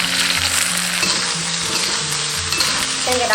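Radish, shrimp, dried scallops, shallots, ginger, dried shiitake and pork cracklings stir-fry in a wok, giving a loud, steady sizzle with occasional light scrapes and clinks of the utensil against the pan.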